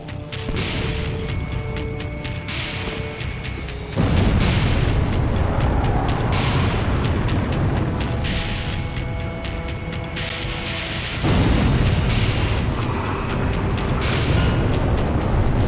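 Heavy booming explosions and rumbling combat noise from an aerial battle in the Ace Combat Zero video game as a fighter jet is shot down, dense and continuous with sharp loud bursts at two points.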